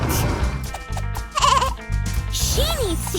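A baby goat bleats twice, close and clear, the second call rising and falling, amid cartoon-style music and sound effects.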